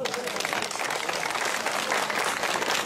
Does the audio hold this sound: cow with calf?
no